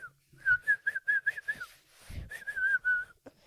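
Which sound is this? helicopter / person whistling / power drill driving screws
person whistling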